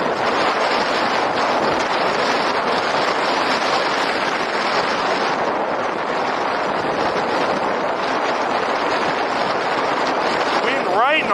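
Steady, loud wind buffeting the microphone while riding a cheap long-range ebike on a 100-mile trip, a continuous broadband roar that barely lets up.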